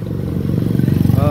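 A motorcycle engine rumbles and rises in pitch as it rides by along a busy village market street in Kebumen, Indonesia, close and fairly loud, with someone speaking over it.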